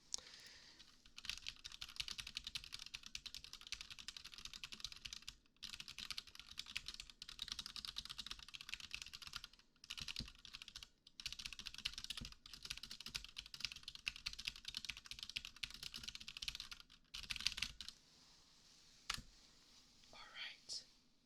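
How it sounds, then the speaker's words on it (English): Rapid clicky typing on a computer keyboard in a quiet whispered ASMR setting, continuous bursts of keystrokes with brief pauses, close and fairly soft. "I'm gonna be typing all the stuff that you're able to do today real quick"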